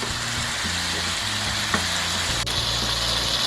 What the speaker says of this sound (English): Because the pot was very hot, it's about time now for me to make a stir, so as to make sure that these don't get any initial burn